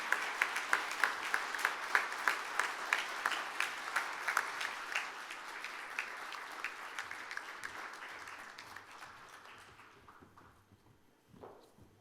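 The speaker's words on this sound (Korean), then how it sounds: "다시 한번 멋진 연주를 해주신 두 연주자분께 뜨거운 박수 부탁드립니다." Audience applause at the 2022 Samsung Ho-Am Prize award ceremony for two musicians after their performance, a steady burst of many hands clapping with a regular rhythmic pulse that gradually fades out toward the end.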